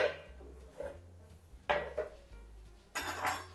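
Knife scraping and tapping against a plate while handling a warm cornstarch bread roll, a few short clinks and scrapes spaced apart, close and fairly quiet with no talk.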